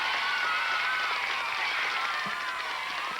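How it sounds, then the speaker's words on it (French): A studio audience on a 1988 Quebec children's TV show applauds to welcome the young guests, with continuous, moderately distant clapping mixed with a few voices. "Alors, on applaudit le ministère,"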